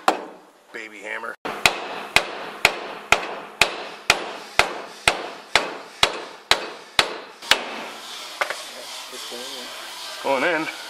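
Steady series of about fourteen crisp, close hammer taps from a small hammer fitting independent rear suspension parts on a 1993 Mustang notchback Coyote swap, with brief talking before the strikes and again after them.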